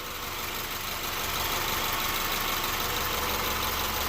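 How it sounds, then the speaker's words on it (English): A 2009 Subaru Forester idles with its headlights switched on, giving a steady, even engine hum with a faint knocking texture that holds at a constant level throughout. "So we got the vehicle running with the headlights on"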